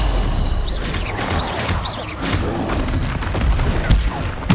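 Spell impacts and combat effects from the Hogwarts Legacy video game, with repeated whooshing bursts and heavy booming thuds layered over a dense, continuous rumbling battle background.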